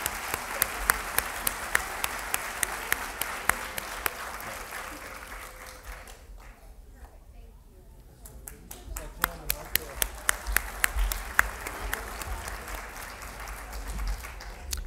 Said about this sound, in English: So give a round of applause to our honorable mentions.